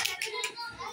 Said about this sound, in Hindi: तालियां मारो इन्हें